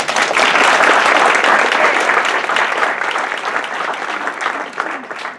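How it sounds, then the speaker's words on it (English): Audience at a talk on nature, race and diversity in the National Park Service breaks into dense, sustained applause, loud and close at first and gradually easing over several seconds, with no voices on top. "I think she deserves a round of applause"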